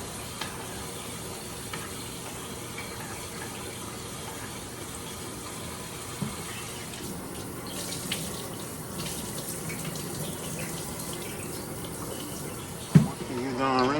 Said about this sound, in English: Rinsing in cold water.